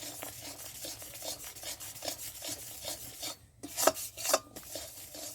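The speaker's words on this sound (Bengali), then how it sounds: "এই গুড়টাকে অনবরত নাড়তে হবে, যতক্ষণ না এর মধ্যে একটা চিট উঠবে ততক্ষণ নাড়তে হবে" Sugarcane jaggery is stirred continuously in a pan, giving rhythmic scraping and rubbing strokes at close range, with a short pause near the end.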